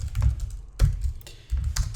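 HTML code typed on a computer keyboard, close clusters of quick key taps in short bursts with brief pauses between them.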